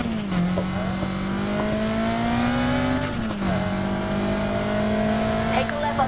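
Race car engine in Need For Speed Heat, a steady droning hum that holds pitch, swells briefly around the middle and settles back, loud and continuous beneath a speaking voice.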